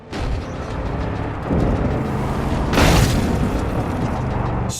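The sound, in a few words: explosion in video game Far Cry 5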